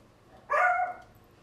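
A single dog bark, a short sharp yelp with a bright tonal ring, sounding fairly close in an indoor room; no voices, just quiet background before and after.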